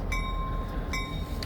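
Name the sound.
freight train passing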